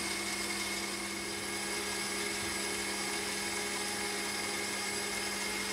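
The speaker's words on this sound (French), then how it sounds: "On va pouvoir ensuite augmenter légèrement la vitesse du batteur." An electric mixer whisks meringue with sugar being added, its motor running at a raised speed in a steady, continuous whine with a low hum, loud and close, with no talk.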